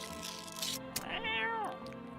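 A single drawn-out cat meow from the video game No, I'm Not a Human rises and falls clearly and up close over a quiet hum of background game sound.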